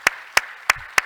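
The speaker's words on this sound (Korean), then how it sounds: "우리 박수로 축하하고 환영합시다." Four sharp, evenly spaced claps ring out in a church as a congregation welcomes newcomers, each crisp and close, separated by brief quiet.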